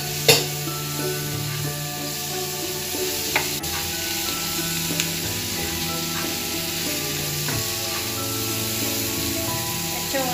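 Squid hits a hot pan for sizzling gambas-style seafood, setting off a loud, continuous frying hiss that holds steady throughout with a few small pops and clatters of stirring.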